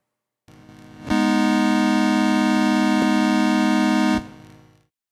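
A Yamaha PS-3 synthesizer holds a sustained 4-foot square-wave tone, bright and buzzy with dense even harmonics, steady and loud for about three seconds with a faint click midway, framed by quieter hiss before and after.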